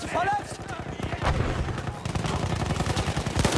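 Shotgun blasts in Battlefield 1 on PS4, several sharp shots mixed into dense battlefield gunfire and explosions, with a voice talking over the din.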